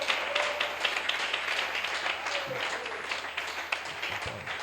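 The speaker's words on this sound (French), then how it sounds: "Can you give him a clapping?" A church congregation claps together in steady, dense applause that fills the room, with a few voices briefly audible under it.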